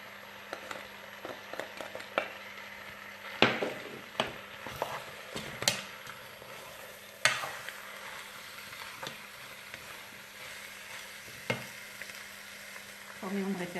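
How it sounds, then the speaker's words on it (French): Chicken and spices fry in a pan for Moroccan rfissa, giving a steady close sizzle broken by scattered sharp clatters and scraping stirs. "Donc, je rajoute le poulet. Et je fais revenir quelques minutes."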